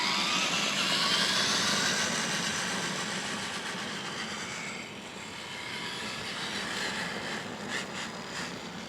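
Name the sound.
RC truck gearbox running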